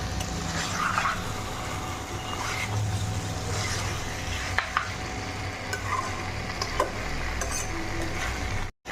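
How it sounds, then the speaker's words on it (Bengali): Chicken being sautéed with spices in a pan, a continuous loud sizzle and frying hiss with steady scraping and stirring of a utensil against the pan throughout. "আর মাংসটাকে ভালো করে কষে নেবো মশলার সঙ্গে।"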